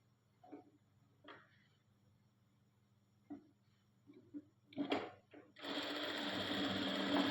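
A sewing machine stitches fabric pieces together, with a few short, faint mechanical ticks and bursts early on, then a loud continuous whirring run of stitching near the end.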